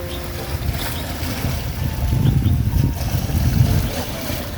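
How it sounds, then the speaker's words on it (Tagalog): Sea waves breaking at a distance, a low rumbling wash swelling and easing under steady wind noise, fairly loud and continuous with no talk. "Malayo at magandang pakinggan ang hampas ng alon sa dagat."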